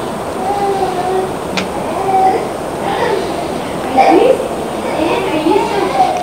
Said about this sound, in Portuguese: Esse é o som da Disney